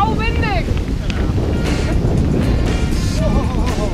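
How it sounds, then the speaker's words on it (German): Strong wind roars and buffets the microphone continuously on a mountain bike tour while people talk and call out over it. "Sau windig!"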